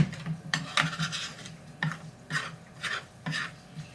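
A utensil mashes flour into leftover pork chop grease in a hot pan. The close scraping and rubbing strokes come in an irregular rhythm, with no voices over them.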